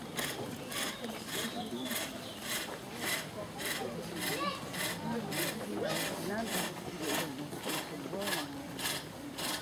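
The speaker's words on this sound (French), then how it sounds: "Je reprends le ciseau pour finir de lisser le cylindre." Outdoors at a medieval fair, a chisel smooths a wooden cylinder turning on a pedal-driven lathe, giving a steady rhythmic scraping that pulses with each back-and-forth stroke, while voices murmur faintly in the background.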